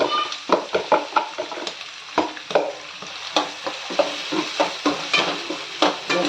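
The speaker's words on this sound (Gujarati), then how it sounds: "પછી એની અંદર જો વટાણ નાખી દેવાનું કાંદો નાખી દેવાનો" Peas and onions fry in a pan for pav bhaji, giving a steady close sizzle broken by repeated scraping stir strokes of a spoon against the pan in a loose rhythm, with no voices.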